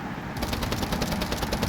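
Rapid automatic gunfire from a shooter video game, a dense burst of closely spaced shots rattling continuously at high volume with no pauses.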